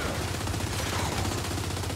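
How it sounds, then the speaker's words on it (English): A dense, continuous barrage of gunfire and blasts fills a grenade launcher fight in the video game Gears 5, loud and unbroken throughout. "I think it might be another grenade launcher."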